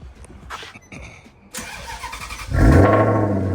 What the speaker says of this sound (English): Fire this thing up. Let's hear what it sounds like.